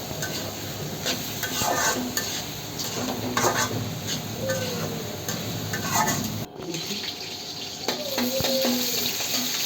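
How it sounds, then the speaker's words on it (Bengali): Crab frying in a pan with onion and potatoes, a steady sizzle under repeated close stirring and scraping strokes, moderately loud throughout with a brief clatter midway. "এটাকে এমনভাবে ভাজতে হবে যাতে এটার একটা গোল্ডেন গোল্ডেন শেপ এসে পড়ে"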